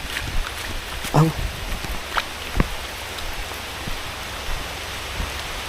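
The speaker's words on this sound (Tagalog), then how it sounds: "Lakas ng ulan. Nabot tayo ng ulan." Heavy rain pours steadily around people sheltering outdoors, a dense close wash of drops with a few sharper knocks and splashes.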